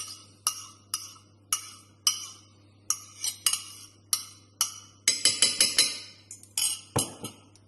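A utensil clinks and taps repeatedly against a bowl while mixing banana dough, in an irregular rhythm of sharp, close strikes that speed up into a quicker flurry toward the end.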